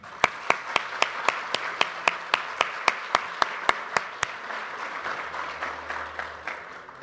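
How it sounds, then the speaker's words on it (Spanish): A graduation ceremony audience applauds with sharp, evenly spaced claps that ring out for about four seconds, then a softer, diffuse patter of clapping that fades under faint room noise. "los primeros aplausos son para ustedes, los nuevos profesionales de UTLA"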